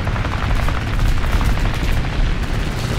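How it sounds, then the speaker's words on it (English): Enemy I-15 fighter plane gunfire in War Thunder, a dense continuous roar of rapid machine-gun fire mixed with booming engine and explosion noise, loud and unbroken with no speech. "Still shooting at us"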